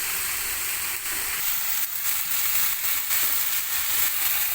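Chicken frying in a pan with pepper, salt and turmeric gives a steady, moderately loud sizzle and hiss throughout, with a few faint stirring clicks.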